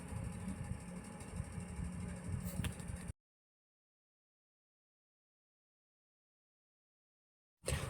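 A sewing machine whirs steadily while stitching a hook strip onto a blouse, running for about three seconds before cutting to silence, with a brief burst returning at the very end.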